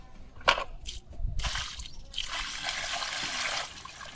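Water poured from a container onto soil in a small ring dug around a newly planted mango tree, giving a soft trickling, splashing flow that comes close and steady for a few seconds.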